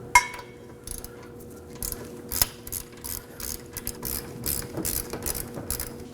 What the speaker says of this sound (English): for that we're going to use a 17mm socket.